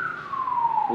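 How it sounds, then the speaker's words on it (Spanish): An ambulance siren wails outside, a single loud continuous tone sliding slowly downward in pitch as the vehicle passes, with traffic rumble beneath and no voices. "Justo ahorita la ambulancia."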